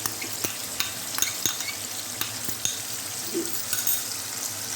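Chicken frying in ghee with garlic-ginger paste, a continuous hiss of sizzling oil broken by repeated sharp spoon taps and stirring scrapes against the pot, close and alone.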